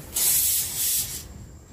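A pressure cooker whistle sounds while mocha ghonto, a banana flower dish, cooks: one short, sharp burst of hissing steam lasting about a second, then quiet.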